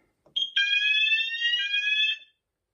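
One fire alarm sounder on a fire alarm panel gives a short tone followed by a loud, steady, shrill alarm that lasts about two seconds and then stops.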